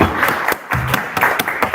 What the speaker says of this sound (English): please give a applause to